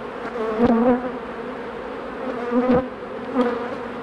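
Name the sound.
honey bees buzzing at an opened beehive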